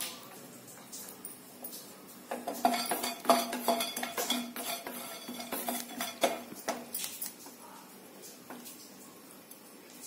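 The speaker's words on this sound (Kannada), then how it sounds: "ಈಗ ಚಕ್ಕೆ ಹುರ್ಕೊಂತಾ ಇದೀನಿ" Cinnamon sticks are stirred and roasted in a pan for Bisi Bele Bath spice powder, a close run of scraping, rattling and clinking from a utensil against the pan in uneven bursts.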